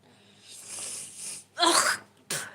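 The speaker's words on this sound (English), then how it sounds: "I feel a sneeze coming on!" A drawn-out breathy inhale builds up, then a loud, sharp sneeze bursts out, followed by a shorter second burst.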